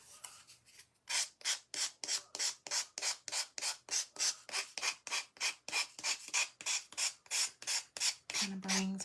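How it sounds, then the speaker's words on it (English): A power sander works back and forth over a wooden bunny craft kit in steady rhythmic strokes, roughly two per second, each a harsh raspy rub, loud and close with no talking. "I am going to go around it with my sander."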